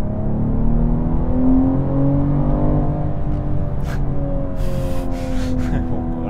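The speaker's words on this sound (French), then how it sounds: "On va faire un petit launch control." A 2022 BMW M240i xDrive in Sport Plus launches on launch control, its engine roaring loud and close as the revs climb through shifts, with brief voice sounds near the end.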